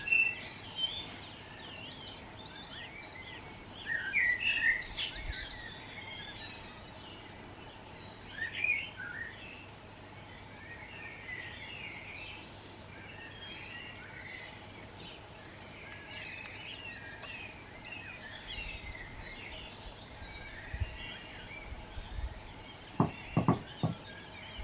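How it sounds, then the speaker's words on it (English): Birds sing in a 4 a.m. dawn chorus, with many overlapping chirps and warbles at varying distances over a low steady hum, and a few close thumps near the end. "I just thought I'd let you listen to the birds."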